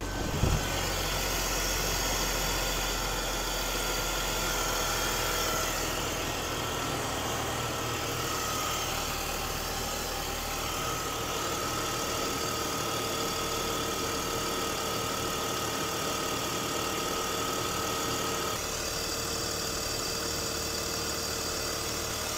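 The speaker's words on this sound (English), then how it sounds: "It quieted down a lot, so engine's running a lot smoother now." A rebuilt BMW E46 330i engine idles steadily and evenly for the whole stretch, loud and close, with a low continuous hum and no talk over it.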